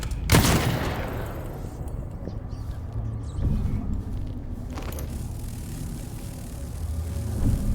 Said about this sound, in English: we're going to shoot